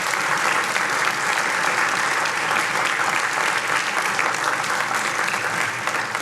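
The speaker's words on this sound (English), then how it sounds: "Let's give another round of applause for those participants" A crowd at the final round of a university entrepreneurship pitch competition gives the participants a round of applause: dense, even clapping that holds steady and loud for the whole stretch, with no talking over it.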